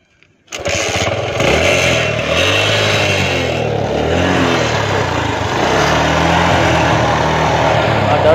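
An uncle's vehicle starts up after a brief quiet moment, then its engine runs loud and close, with revs rising and falling as it is driven.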